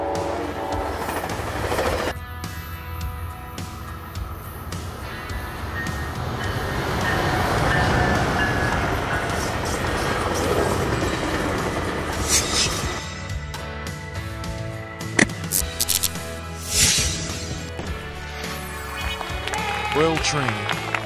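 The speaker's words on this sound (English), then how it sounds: "Commuter trains are a type of railway vehicle used to travel short distances within the city or on the outskirts of the city rail train." A commuter train runs along its rails with a steady, rumbling roar that swells in the middle and is broken by clacks and a squeal toward the end, with a voice talking over the passing train.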